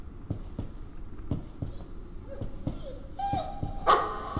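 A dog in the horror game Layers of Fear gives a run of sharp, regularly spaced barks, then breaks into a rising whimper and yelp near the end, fairly close and clear over a low background rumble.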